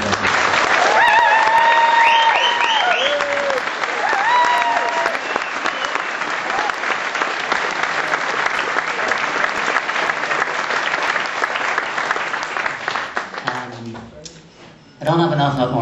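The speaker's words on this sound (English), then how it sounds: "would you please give a huge round of applause to Paul and Eric and Michael." A large audience applauds performers at a concert with loud, dense clapping that holds steady for most of its length. Brief tonal sounds rise over it near the start, and the clapping thins and drops away near the end.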